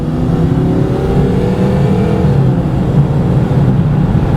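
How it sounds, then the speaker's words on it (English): A Fox Body Ford Mustang's engine holds a loud, steady drone as its wheels spin, a continuous close rumble with slowly shifting tone and no voices. "So a little bit of wheel spin."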